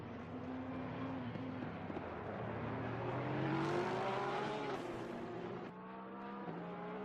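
Lexus and Porsche GT race cars in Assetto Corsa Competizione at Monza, engines droning steadily near the camera, rising in pitch then dropping sharply as they brake hard into the chicane, with overlapping engine tones.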